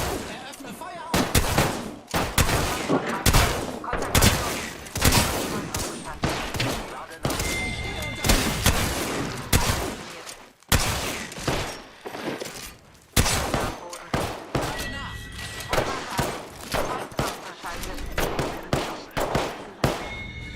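Heavy gunfire in an Apex Legends battle royale match, with loud, dense volleys of shots and impacts in repeated bursts across a long stretch and occasional short pauses.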